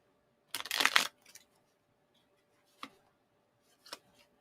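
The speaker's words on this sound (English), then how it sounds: "One more shuffle" A deck of tarot cards is shuffled in one quick riffling burst of papery flutter, followed by a few soft taps and clicks as the cards settle. The sounds are close and otherwise quiet.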